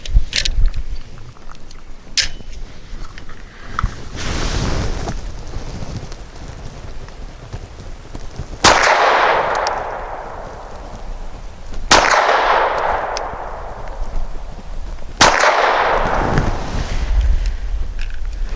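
A Mossberg MC1SC pistol fires Winchester Super Clean Zinc Core 90-grain rounds: six loud, sharp shots spaced a few seconds apart, each followed by a ringing decay.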